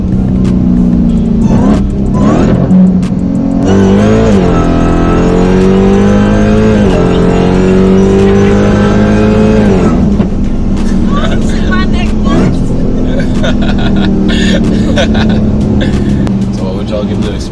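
A 1000HP Hellcat's engine accelerates loudly and steadily, its pitch rising through the gears with a continuous roar from inside the car, while occupants talk over it.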